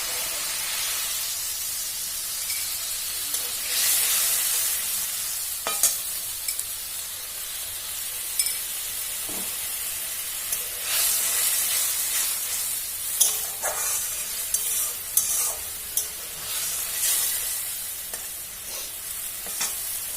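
Mustard powder going into a frying pan while cooking Bengali sorshe ilish, a steady close sizzle with repeated stirring scrapes and bursts of hissing steam, no talking.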